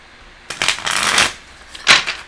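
Tarot cards are shuffled by hand in two quick riffling bursts, close and crisp, separated by a short pause.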